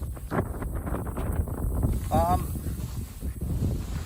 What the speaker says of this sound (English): The winds are up in the last few minutes. They're picking up.